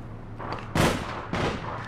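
Two loud gunshots from the online shooter APB Reloaded, about half a second apart, each a sharp broadband blast over a low steady game hum.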